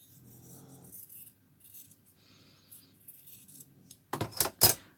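Scissors snip through fabric for a dressform pin cushion, a few faint blade strokes before two sharp, close cuts at the end.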